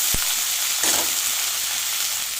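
Capsicum and onion fry in a pan with a loud, continuous hissing sizzle and a quick knock near the start, brief and without speech.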